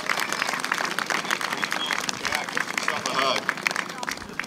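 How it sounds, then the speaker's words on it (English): A crowd at a Christmas charity fundraiser applauds the Harley riders, dense steady clapping close by with scattered cheers, while a voice talks over it. "one more round of applause for the Harley riders"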